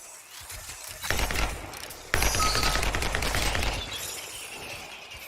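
Whirlwind sniper rifle from the Anthem demo firing in rapid bursts, a fast stream of loud mechanical cracks from about one second in. A brief pause is followed by another sustained volley.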